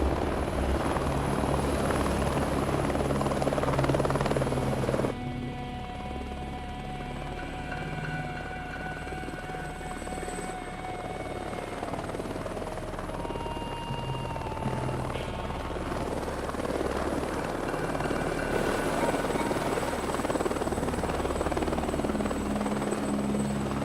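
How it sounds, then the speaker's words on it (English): A helicopter's rotor drones and chops steadily throughout, loud and close, with its pitch shifting slightly as it holds position. "Big Deal's got his own helicopter service"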